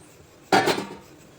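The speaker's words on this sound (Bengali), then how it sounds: "এখন ঢাকনা খুলে দেখবো পিঠে হয়েছে কি না" A metal lid lifted off a pot of steamed pitha gives a single sharp clank and a brief rattle, loud and close, then fades to quiet.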